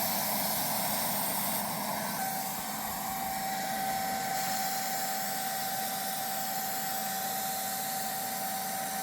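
The motor of a Tilswall Shark 800W paint sprayer, carried on a shoulder strap, runs continuously as an even, loud whirring drone with a steady high whine.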